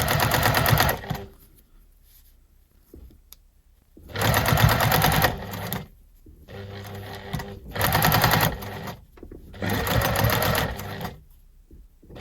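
Four separate bursts of rapid mechanical whirring come from a sewing machine stitching knit fabric along a line, each lasting a second or two, with quiet gaps and faint handling noise between them.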